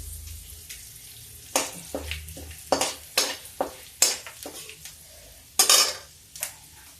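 Bay leaf and mustard seeds go into hot oil for a drumstick kadhi, heard as repeated sharp scraping and stirring strokes against the pan over a faint background sizzle.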